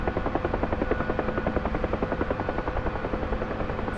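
Huey helicopter flying in the DCS combat flight simulator, a steady close rotor chop with rhythmic blade thumps over a continuous turbine roar, holding loud and even throughout.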